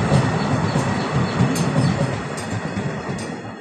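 Passenger train clattering steadily along its tracks past village homes, a loud close rumble with rhythmic wheel clacks and faint squeal, no voices.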